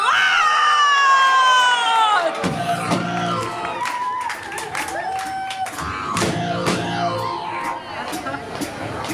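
A live audience at a comedy stage show cheers and shouts for performers as they are introduced, a loud roar that swells, then a stage voice speaks while crowd noise continues underneath.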